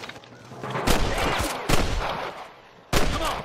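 Gunfire in the video game Red Dead Redemption, three loud sharp shots spaced about a second apart, each trailing into echo and a noisy shootout background.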